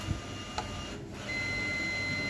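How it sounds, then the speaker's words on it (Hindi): A digital multimeter checks a component on a desktop motherboard. A couple of soft clicks come first, then the meter lets out one continuous high-pitched beep that lasts to the end. "तो इसको हम चेक करेंगे तो बीप आना चाहिए।"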